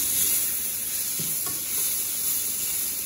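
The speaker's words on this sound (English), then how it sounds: "And we're gonna cook this with the garlic for about 30 seconds, just until it gets a little fragrant" Garlic frying in a pan gives off a steady, bright sizzle, with a few soft scrapes as it is stirred.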